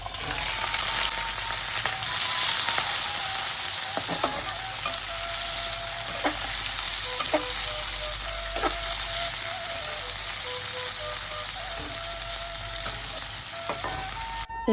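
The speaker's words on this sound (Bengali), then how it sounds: "তারপর দিয়ে দেব পেঁয়াজ কুচি ও মরিচ ফালি।" Chopped onion and sliced chili fry in hot oil with cumin and black cumin, a steady dense sizzle lasting throughout, punctuated by occasional clinks and scrapes of a spatula stirring the pan.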